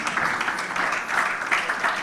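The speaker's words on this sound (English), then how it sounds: "please a round of applause for him." A conference audience claps for a speaker in a short, even burst of applause that holds steady throughout, with no voices standing out.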